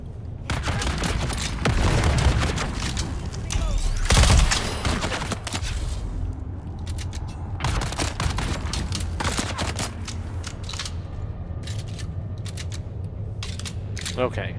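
Dense, sustained gunfire fills the Dune Awakening game, with rapid bursts and heavy booming shots hammering almost continuously and loud throughout, ending in scattered lighter shots.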